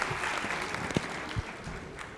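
Applause from an audience at a Maheshwari Sabha Mahesh Navami award function in Latur, honoring a doctor who is compering the stage; steady continuous clapping throughout with a few sharper claps standing out.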